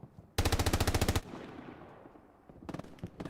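An MG34 machine gun fires in a video game, a loud close burst of about a dozen rapid rounds, then a fading echo before a shorter, ragged second burst.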